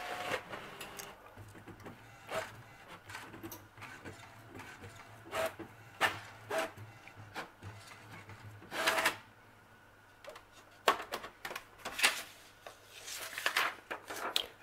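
A Brother inkjet printer fitted with a continuous ink system runs a print head nozzle check, giving irregular mechanical whirs, clicks and carriage shuttling bursts that repeat throughout at close range.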